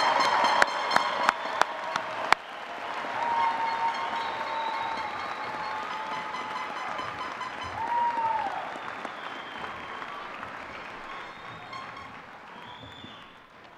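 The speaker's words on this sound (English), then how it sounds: "Please join me in applauding the graduates" Sustained applause from a large university commencement audience for graduates fills the room, beginning with a few sharp claps and settling into steady, even clapping that slowly fades.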